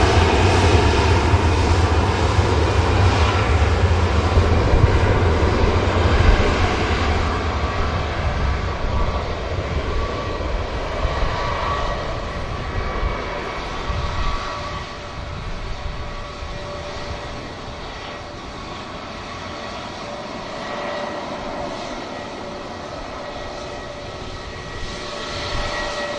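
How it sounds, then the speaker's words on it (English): An EasyJet airliner climbs out after take-off from a busy airport, its engine roar loud and steady at first and then slowly fading and easing as it pulls away, a broad continuous rumble with no voices. "EasyJet climbs out."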